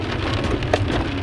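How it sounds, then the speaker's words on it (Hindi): Rain falling steadily during a long countryside ride, a dense close patter on a surface with no voices. "बारिश अब लग चुकी है, बारिश हो रही है"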